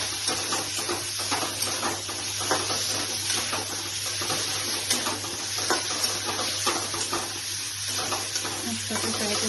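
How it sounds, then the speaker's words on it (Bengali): Chicken pieces frying in a pan for a Bengali chola dal curry, giving a steady dense sizzle with occasional stirring scrapes throughout, close and continuous with no talk. "চিকেনগুলোকে একটু ফ্রাই করে নিচ্ছি এইভাবে।"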